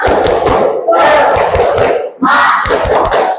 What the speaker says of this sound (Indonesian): Sebelum ice breaking mau tepuk semangat dulu deh